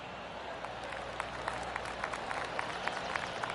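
Polite golf-style applause and scattered claps from a gallery in a console golf video game, rising after an approach shot of about 100 yards to set up a birdie chance at the third hole, steady and moderate in level.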